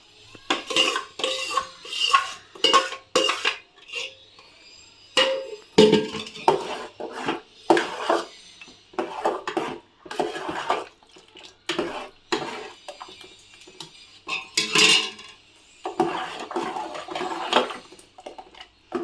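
A spoon stirring raw mango juice in a metal vessel, giving rapid clinking and scraping strokes with sloshing liquid, loud and close in busy bursts throughout with brief pauses and no talk.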